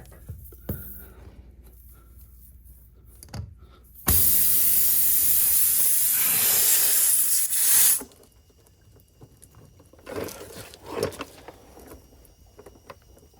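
Air rushing from a tire as the plug insertion tool is pulled out, a sudden loud hiss lasting about four seconds before cutting off, with quieter handling clicks and brief talk around it.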